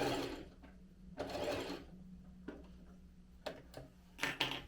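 A sewing machine stitches fabric for pleated trousers in short bursts of whirring, with pauses between runs and faint clicks near the end.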